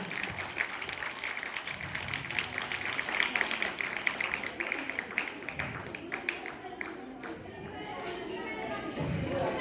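Audience applause at a Hindi-language talk, offered in honour of a father and mother, with brisk clapping running throughout at low level and murmuring voices beneath it.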